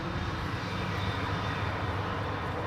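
A Corendon airliner at Amsterdam Schiphol Airport gives off a continuous broad jet roar from some distance, steady and unbroken, with no voices.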